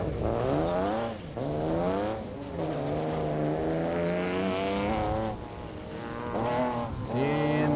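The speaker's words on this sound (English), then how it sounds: "And as we're into F prepared, there's car 17, Dave Proctor and Sunbeam Tiger." Sunbeam Tiger autocross car in F Prepared class running the course at a national solo event, its engine droning loud and steady with rising and falling revs through the turns.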